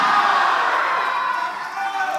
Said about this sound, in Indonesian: Kita tepuk tangan untuk 2 calon wakil gubernur di sesi ini.